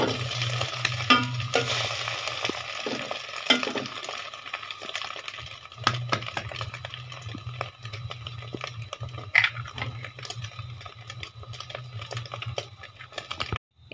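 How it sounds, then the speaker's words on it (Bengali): Several eggs fry in hot oil in a pan, giving a steady close sizzle with scattered crackles and light clinks of a utensil, no talking. "এই তো এভাবে করে আমি কয়েকটা ডিম ভেজে নিব।"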